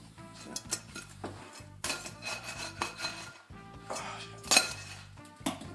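Food tossed in a metal pan in a home kitchen, a series of sharp metallic clanks and scraping rattles in irregular bursts, close and fairly loud, with no talking.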